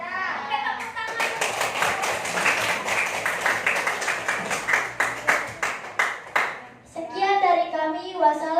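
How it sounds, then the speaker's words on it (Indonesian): A classroom of students claps together after a group presentation, a lively burst of hand claps lasting several seconds, followed by children's voices talking. "Oke, tepuk tangan."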